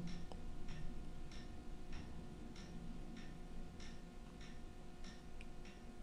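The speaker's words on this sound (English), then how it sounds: "if I keep quiet, you probably might just hear the clock" A clock ticking faintly in a quiet room, a regular tick every half second or so under a steady hiss from a wireless microphone system.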